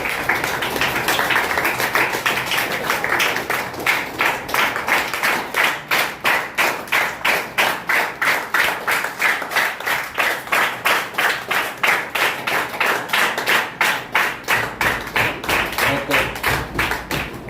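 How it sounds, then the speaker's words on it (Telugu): A group claps together in a steady, rhythmic beat, loud and sustained for a long stretch with no talking over it. "ఒకసారి చక్కగా క్లాప్స్ కొడదాం గట్టిగా క్లాప్స్ కొట్టాలి"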